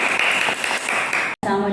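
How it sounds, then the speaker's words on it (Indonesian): Classroom audience clapping during a physics lesson, a brief loud burst of applause cut off abruptly, followed by a voice. "Beri tepuk tangan dulu"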